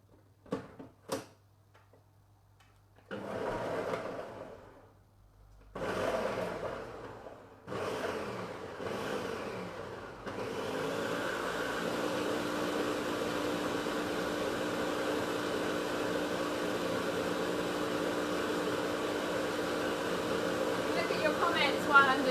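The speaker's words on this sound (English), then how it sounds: "now we're going to blend it, which is going to make a bit of a noise" A blender pulses a few short bursts, then runs steadily on high to purée a vegan cheese spread, a loud continuous whir that holds and builds slightly toward the end.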